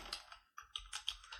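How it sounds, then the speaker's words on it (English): A computer keyboard is typed on in a short burst, with several quick, close, crisp key clicks in an uneven rhythm and no voices. "I'm typing them now."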